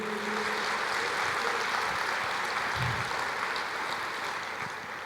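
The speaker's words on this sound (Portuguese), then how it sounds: "Pode aplaudir o Senhor" A church congregation applauds the Lord in a dense, sustained wash of clapping from many hands that fills the room and fades slightly toward the end, with no talking over it.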